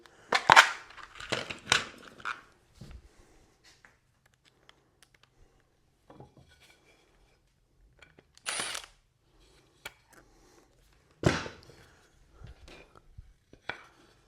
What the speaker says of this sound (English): let's just drive a screw through and see what it looks like if you drive a screw through